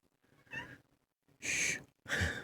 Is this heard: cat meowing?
yes